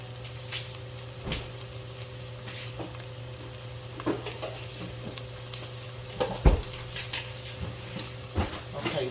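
Sautéed onions cooking down in a pan for chicken and sausage spaghetti, giving a soft, steady sizzle with occasional light clicks and scrapes of a utensil, fairly quiet and alone.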